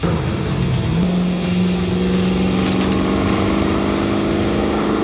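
A 2008 Corvette Z06 with well over 1,000 horsepower roars steadily under acceleration, its engine note loud and sustained with a rising tone, heard from inside the car.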